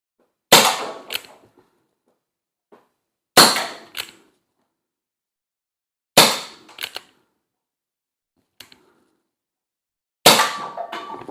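Sheridan Cowboy CO2 .177 air gun firing at bin cans, five sharp cracks at a few-second intervals, most followed by a quick metallic clang of the can being hit, with silence between shots.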